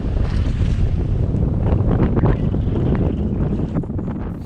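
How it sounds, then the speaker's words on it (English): Strong gusty wind by a lake at Lathrop State Park, Colorado, buffets the microphone in a constant loud roar, with a faint wash of water in the background. "Boy, was it windy."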